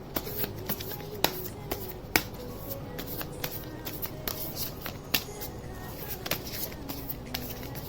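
Tarot cards being shuffled and handled, with a steady papery riffling broken by sharp snapping flicks as cards are drawn from a Secret Destiny deck, close and quiet with no talk.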